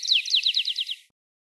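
Sparrow song in a lower-pitched version, a rapid series of about eight descending chirped notes in a steady rhythm, clear and close, lasting about a second and then stopping.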